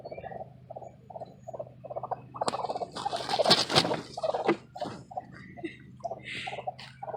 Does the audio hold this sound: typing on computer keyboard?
no